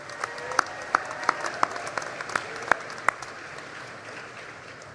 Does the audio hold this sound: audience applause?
yes